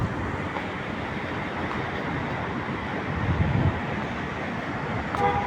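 An artificial waterfall beside an office building, opposite a tower, gives off a steady broadband rush of falling water, continuous and fairly close, with no talk over it.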